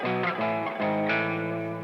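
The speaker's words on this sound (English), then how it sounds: "your power chord. What that actually is, the chord tones in disguise, it's the root and the fifth, the perfect fifth." A distorted electric guitar plays power chords built from root and perfect fifth, a few thick, saturated chord strikes ringing loudly and sustaining with no talk.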